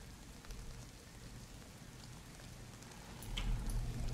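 Rain falling in the survival video game DayZ, a soft, continuous patter heard quietly and alone, swelling slightly toward the end.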